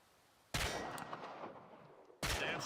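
Two loud gunshots in the Chernobylite video game, one around half a second and another near the end, each a sharp broadband crack followed by a long echoing decay.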